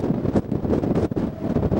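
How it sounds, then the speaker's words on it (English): Strong wind pummels the microphone in rough, uneven gusts over Kaneohe Bay, Hawaii, a loud low roar from start to finish. "It's very windy today."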